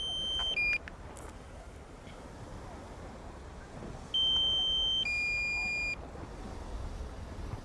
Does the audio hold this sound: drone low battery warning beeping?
yes